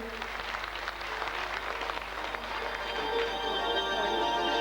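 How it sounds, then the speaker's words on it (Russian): Applause from the audience at a city beauty pageant in Aktau, a fairly quiet, distant wash of clapping that grows fuller toward the end, with music tones sounding underneath. "Я предлагаю еще раз одарить наших участниц морем аплодисментов."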